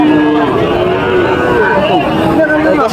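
Loud Sahiwal cattle mooing at a livestock market, several overlapping low drawn-out calls filling the whole stretch, with crowd noise and talk underneath.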